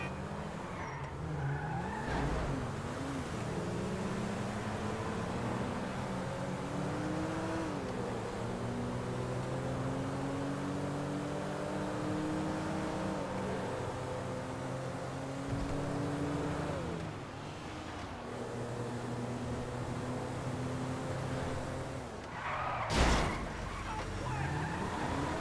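A car drives in GTA with an engine that steadily rises and falls as it revs through gears, a continuous close drone broken by a brief skid and thump near the end.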